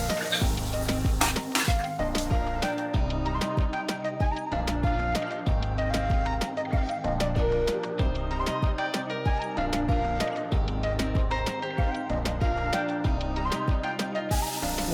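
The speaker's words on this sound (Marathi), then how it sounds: "कांदा शिजतोय आता मी यामध्ये हे फरसबी टाकते फरस फरसबी कॅप्सिकम" Onion, green beans, capsicum and carrot cooking in a pan, with a steady loud sizzle and frequent close scraping and clinking of a spoon stirring against the metal, continuous throughout with no talking.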